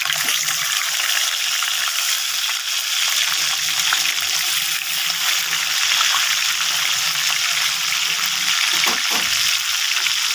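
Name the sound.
whole fish frying in oil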